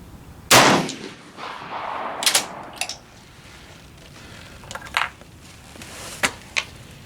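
A single loud rifle shot cracks at close range on an outdoor shooting range while the rifle is fired without a scope mount, followed by a few fainter distant shots and clanks.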